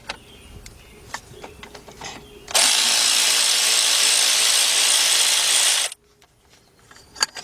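A ratchet on a 14mm nut at an Audi A8 starter gives a loud, steady mechanical whir for about three seconds, with faint clicks and handling noises before and after.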